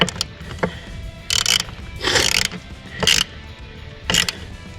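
A ratchet tightens a single bolt while refitting a Midland MXT500 radio, with short bursts of clicking separated by pauses and small knocks, close and alone.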